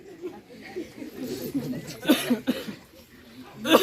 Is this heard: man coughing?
yes